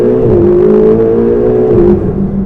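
A Ferrari 488 GTB engine revs hard and accelerates inside a tunnel, a loud, close, sustained rising roar with a brief drop near the end and no talk over it.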